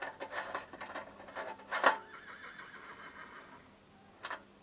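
A horse neighs in a quick, shaky whinny, with softer snorts and rustling around it; a second short whinny follows near the end.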